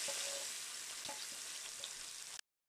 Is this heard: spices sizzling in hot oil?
yes